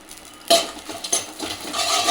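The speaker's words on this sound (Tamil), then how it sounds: "இதெல்லாம் கொஞ்சம் லைட்டாக ரோஸ்ட் பண்ணி எடுத்து வறுத்துக்கணும்." Fennel, cardamom, poppy seeds, cinnamon and dried red chillies are dry roasted in a pan, with a ladle stirring in quick rustling, scraping strokes at a steady, close, moderate level.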